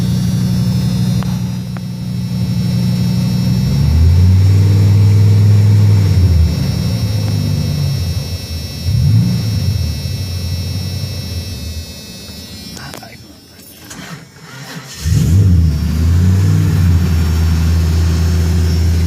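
A parked vehicle's engine idles steadily at close range, a low rumbling drone that dips briefly as the load changes, with hot-weather air conditioning coming on; a person talks over parts of it.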